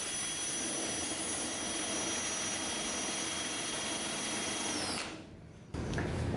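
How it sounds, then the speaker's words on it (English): A power drill spinning a transformer whirs steadily at high speed with a whining tone, briefly cutting out near the end before spinning back up. "we're going to put our drill back on there"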